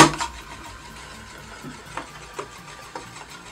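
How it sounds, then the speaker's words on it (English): An Euler's disc is set spinning on a mirror, starting with a sharp clatter and settling into a faint, steady whir marked by light periodic ticks. "So you take your mirror, you put the Euler's disc like this, and you spin it"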